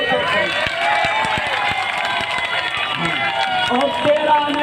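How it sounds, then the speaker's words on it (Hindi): Crowd at an outdoor election campaign rally clapping together loudly, a dense continuous wash of applause with sharp hand claps throughout and crowd noise beneath. "जोरदार आप तालियां बजा दे, जोरदार।"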